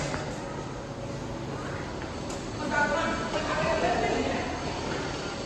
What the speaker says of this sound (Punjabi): ਲੋ ਜੀ ਟ੍ਰੇਨ ਚੱਲ ਪਈ ਆਪਣੀ